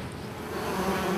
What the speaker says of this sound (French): au cœur de la ruche, elle bourdonne d'activité